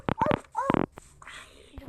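A young person's voice imitates a dog barking, giving a few short, close, breathy yips and whimpers amid brief speech-like bursts.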